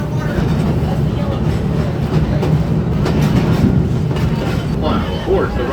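A Busch Gardens railway train rumbles across a trestle with a continuous close, loud roll of wheels and clacking, while people talk underneath.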